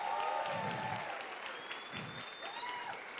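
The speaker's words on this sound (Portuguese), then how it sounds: "Você pode dar uma salva de palmas para ele" Fairly faint applause from a church congregation for a pastor celebrating his birthday during a live worship service, steady light clapping heard alone across the clip.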